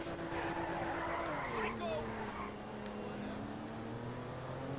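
Car driven in Grand Theft Auto V, its engine note droning and dipping in pitch as it slows, with a brief tire squeal, all heard beneath someone talking.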